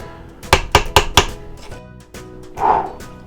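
Dough being mixed by hand in a home kitchen, heard as a quick run of four sharp thumps followed by a couple of softer knocks and a brief scraping swish.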